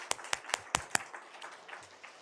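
A church congregation at a Sunday worship service claps, five sharp hand claps in a steady beat followed by softer, scattered clapping that fades out, heard at a moderate distance.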